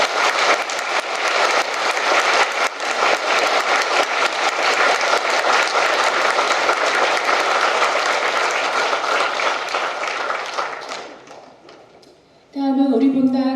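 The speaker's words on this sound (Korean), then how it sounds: "큰 박수 부탁드립니다" A church congregation at a priest's first Mass breaks into sustained, dense applause for about eleven seconds, loud and close, before it fades and a voice begins speaking.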